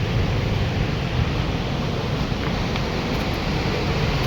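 Two mountain rivers meet near Kongwatan Meadow, their flowing water making a constant, loud, even roar with no breaks or voices.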